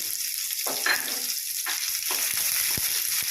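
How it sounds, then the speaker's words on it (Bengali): Onions fry in oil for prawn pulao, a bright, steady sizzle close by, broken by a few scraping stirs and light utensil knocks. "এরপর পেঁয়াজগুলো তেলের মধ্যে দিয়ে দিতে হবে"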